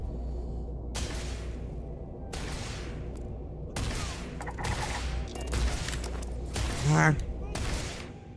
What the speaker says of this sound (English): Why are they shooting at the bounty?